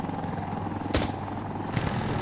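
A helicopter in the game Insurgency Sandstorm thrums with a steady rotor drone, close and fairly loud, broken by a couple of sharp bursts.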